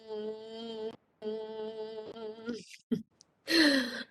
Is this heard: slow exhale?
yes